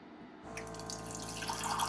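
Cold water from a household tap starts running into a sink, a sudden steady splashing gush after a brief quiet moment, close and continuous.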